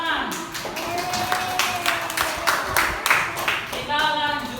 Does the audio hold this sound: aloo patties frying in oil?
no